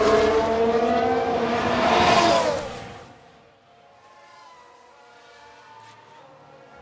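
Red Bull Formula 1 car in F1 Manager 22 locking a wheel and running wide off the racing line, a loud rising whine with squeal that holds for about two seconds and then fades out abruptly, leaving a faint low background.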